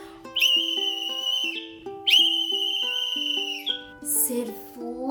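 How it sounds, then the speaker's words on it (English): A policeman's whistle blown in two long shrill blasts with short tones between, loud and close, set over a bright stepped children's-story melody with no talking. "when he blew his whistle"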